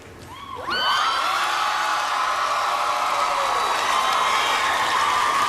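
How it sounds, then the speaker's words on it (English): A crowd cheering and whooping loudly at the MTV Movie Awards, surging up suddenly after a brief quiet moment and holding as a dense, sustained roar with high whistles and shouts, alone without speech. "guys are doing a good job of cheering really loud."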